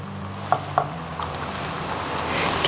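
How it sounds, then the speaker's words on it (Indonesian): Pizza dough cooks in a lightly oiled Teflon pan with a soft, steady sizzle, broken by a couple of faint clicks near the start, close and without talk. "Nih kita kasih minyak sedikit dan kita akan masak yang bagian atasnya dulu ya"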